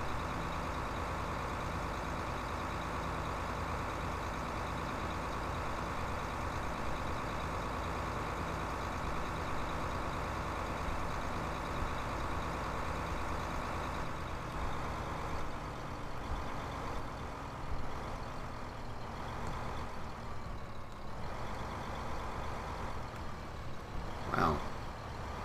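Tractor engine drones steadily while driving in Farming Simulator 15, a constant mid-level hum with a faint rising tone toward the end and a brief clunk near the close.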